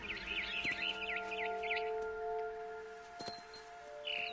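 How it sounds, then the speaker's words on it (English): A barn swallow chirps in What Remains of Edith Finch, a few wavering high tweets near the start over a steady tonal game ambience, then quieter sparse calls. "Then I heard chirping outside my window. It was a barn swallow going back to her nest."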